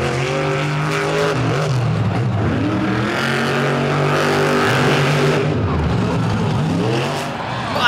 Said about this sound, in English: How much more fitting can you get than school bus racing?